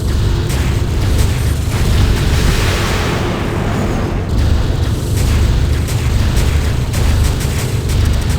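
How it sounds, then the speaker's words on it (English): A powerful cannon in the space combat game FreeSpace 2 fires as a repeated series of deep booming blasts over a dense, rumbling backdrop, loud and continuous, no voices. "Yes, this cannon seems to be powerful."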